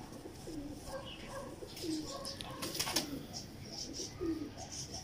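Heera Lal pigeon cooing nearby, several soft repeated throaty coos spaced through the stretch, with light rustling and faint background noise.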